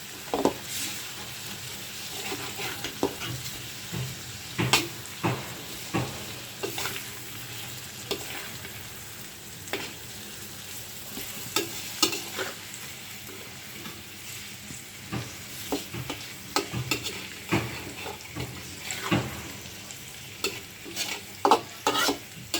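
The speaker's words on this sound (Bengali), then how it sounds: "এভাবে মাছটা একটু তেলের উপর ভাজা হোক তারপরে পানি দিব" Fish sizzling and frying in oil in a pan with turmeric, salt and chili powder, a steady crackle with repeated sharp stirring scrapes throughout, close and fairly loud, no talking.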